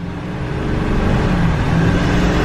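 A Chevrolet Silverado 2500 HD pickup with the 6.6 Duramax engine drives on the road, a steady loud low hum of engine and road noise from inside the cab, without speech.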